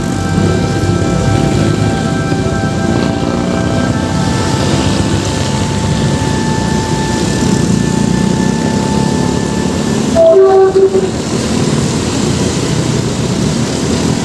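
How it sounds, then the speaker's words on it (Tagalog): An approaching train headed toward Santa Mesa, beside the NLEX Connector construction along Ramon Magsaysay Boulevard, makes a loud, steady, heavy rumble with sustained tonal whines and a brief sharper burst near the end. "Dito tayo konti kasi may paparating na tren."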